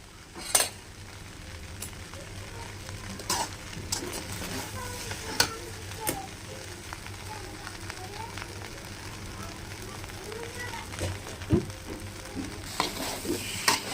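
Chicken fried rice is stir-fried in a pan, giving a steady low sizzle broken by sharp scrapes and clinks of the spatula against the metal, close by, with a voice speaking over the cooking.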